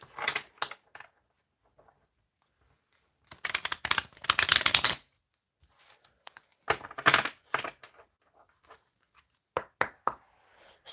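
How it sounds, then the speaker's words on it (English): A deck of cards with stars printed on them being shuffled in short bursts of crisp riffling and flicking, with one longer dense riffle in the middle and quiet pauses between. "Let's do one more shuffle."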